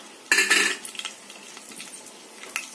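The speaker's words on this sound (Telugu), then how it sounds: "తిరగమాత గింజలు మనం వేగనిద్దామండి." Mustard, cumin and fenugreek seeds with dry red chillies dropped into hot oil for tempering pappu pulusu, a sudden loud burst of sizzling and clatter followed by quieter crackling pops and a metallic tap.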